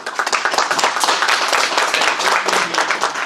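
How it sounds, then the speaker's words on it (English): A room full of people at a digital health governance panel session bursts into lively applause, dense clapping sustained for a few seconds with no one speaking. "Ladies and gentlemen, applause for the panel."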